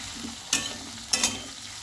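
Potatoes frying in mustard oil in a pan for a soybean and potato curry, a steady close sizzle broken by two sharp scraping stirs.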